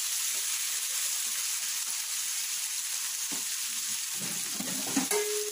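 Tomatoes, onions, turmeric and salt fry in a pan with a loud, steady close-up hiss and sizzle, broken near the end by a few soft stirring clatters. No one speaks.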